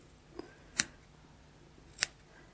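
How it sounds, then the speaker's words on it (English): Two crisp snips of scissors cutting embroidery thread during hand stitching, spaced about a second apart, close and fairly quiet with near silence between them. "So I'm just going to snip it right down till I've got something that's resembling a heart"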